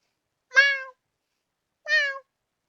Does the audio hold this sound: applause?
no